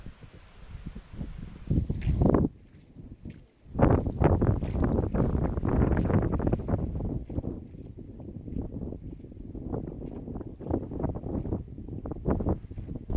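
Strong wind gusting across a river bend on the Innoko River, buffeting the microphone in rough, uneven bursts with rustling and low rumbles between gusts.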